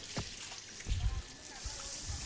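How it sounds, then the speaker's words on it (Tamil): Water being pushed and swept across a terrace floor during cleaning, with faint, soft sloshing and trickling strokes at intervals, quiet and close. "அங்கேருந்து தண்ணி தள்ளி விடுப்பா."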